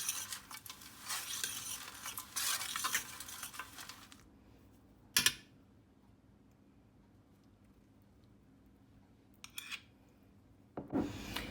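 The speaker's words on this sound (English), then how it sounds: "I'll give that a bit of a stir and see what I think of the ingredients" A spoon stirs ingredients with cinnamon and oil, giving a scraping, rubbing stir for several seconds, then near-silence broken by a sharp clink and a few later scrapes.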